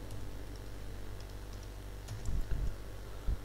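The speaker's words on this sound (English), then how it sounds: "Now type password." Someone types a password on a computer keyboard during an Ubuntu server setup, with soft steady key taps running throughout and a few louder keystrokes near the end, close and clear with no voices.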